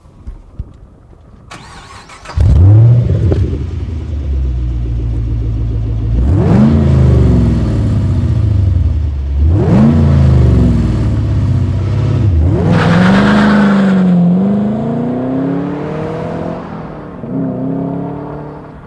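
2010 Chevrolet Camaro fitted with a Borla Touring exhaust cranks and fires up, then settles into a deep idle broken by three sharp revs that rise and fall back, close and loud.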